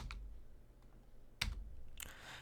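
Keys pressed on a computer keyboard: a few isolated, crisp clicks spaced apart, quiet and close, against a low background hum.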